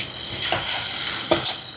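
Hot ghee tempering sizzles and crackles as it is poured into lentil curry, with a couple of sharp spitting bursts over a steady hiss.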